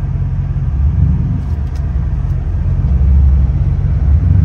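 A cammed Impala SS with its wheels spinning in snow gives a loud, steady low engine rumble and drone that holds throughout with no voices.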